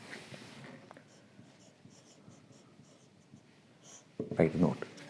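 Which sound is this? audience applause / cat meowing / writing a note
writing a note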